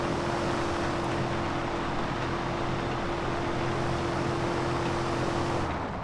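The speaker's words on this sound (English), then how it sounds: "Some donuts from the police interceptor here." A police interceptor car spins donuts in a video game on a monster truck track, a steady engine drone with a constant pitch holding throughout and no talk.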